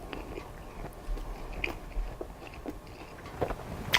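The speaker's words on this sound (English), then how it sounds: "are you ready to see what this burger looks like after I take a nice bite out of it?" Crunchy bites and chewing of a burger topped with egg, close and moderately quiet, with a few sharp crunches over a low steady background.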